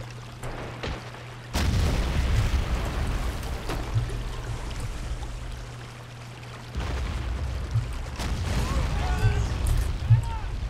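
Mortar fire in the video game Men of War Assault Squad 2 during a multiplayer battle: two heavy thumping launches with rumbling booms over steady battlefield noise, with faint voices and scattered smaller shots.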